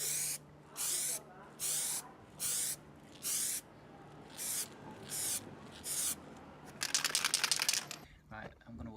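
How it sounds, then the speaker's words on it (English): A spray can of Plasti Dip hisses in short repeated bursts onto a car's front badge, about a dozen quick sprays with brief pauses, ending in a longer rattling spray. "Right, finally let's start spraying now."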